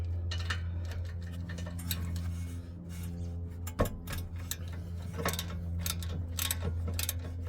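Ratchet clicks and metallic clanks come from an 11/16 socket ratchet working on a brake caliper bolt of an Acura TL, set over a low steady hum, with one sharper knock partway through and no voices.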